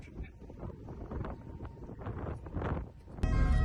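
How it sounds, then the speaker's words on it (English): Strong wind off the bow of a ship arriving in Nova Scotia buffets the microphone in a steady roar with gusts, growing louder toward the end. "It's windy out here off the bow of the ship."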